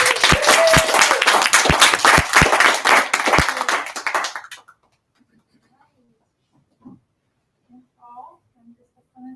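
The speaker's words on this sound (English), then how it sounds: "let's give her a warm round of applause" Audience applause at a talk on social norms in fearful events, a dense burst of clapping with a few sharp hand claps that fades out after about four seconds, leaving near silence with faint scattered noises.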